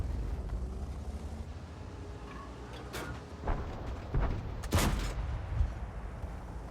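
A heavy tank main gun in the World of Tanks video game fires with a couple of sharp, booming blasts over a low rumbling engine drone, fairly quiet overall.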